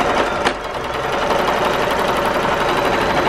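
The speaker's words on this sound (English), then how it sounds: "sew down the bottom, stop, and sew down the other side and stop for both your lining and your main fabric" A sewing machine runs steadily through fabric seams, stitching the lining and main fabric of a cup coozie; a close, continuous rapid mechanical whir with fine repetitive ticking and no pauses.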